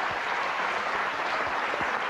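A studio audience at an evening talk show applauds, dense sustained clapping filling the room at steady volume throughout.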